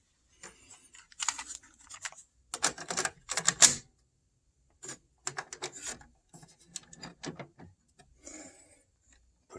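Cassette tape being inserted into a vintage Panasonic SG-V305 all-in-one stereo cassette player, a series of sharp plastic clicks and clacks in irregular bursts with quiet gaps, close and crisp.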